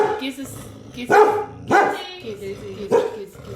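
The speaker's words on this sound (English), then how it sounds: "He's doing his guard dog thing." A guard dog barks in several loud, close bursts with whimpery tones between them, while a person speaks softly nearby.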